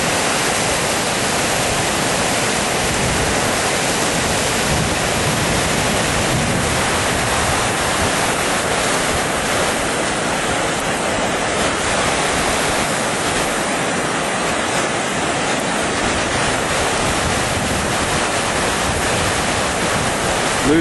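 Strong current of rushing river water in deep winter cold, a loud, dense, unbroken roar of flowing water with some wind noise, steady throughout and with no voices.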